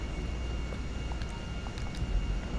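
Jet engines of a huge bomber plane in GTA 5 roar in a steady airborne drone, loud and continuous, with faint high ticks and a thin whine layered over the rumble.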